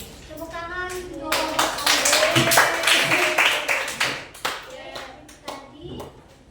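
Students in a classroom clapping hands in applause, a loose burst of claps mixed with children's voices and chatter, fading into scattered claps.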